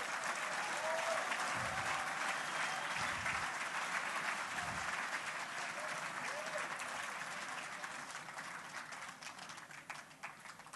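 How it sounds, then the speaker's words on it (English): Sustained applause from a large crowd at an awards ceremony, a dense, steady wash of clapping that holds strong for several seconds before gradually thinning and fading. "You want to give them a round of applause?"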